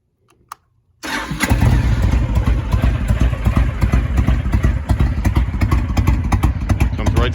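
A 2005 Honda VTX1300R liquid-cooled motorcycle cold starting on choke, a short click and quiet pause, then the engine catches and settles into a loud, steady, lumpy idle with rhythmic pulsing and light mechanical clatter.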